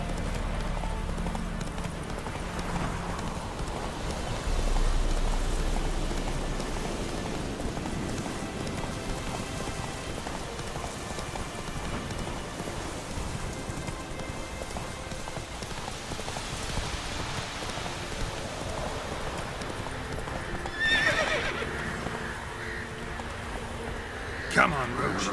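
The horse Roach gallops through rain in The Witcher 3, hooves clip-clopping in a fast steady rhythm over a constant patter of rainfall, with a brief whinny and a voice urging the horse on.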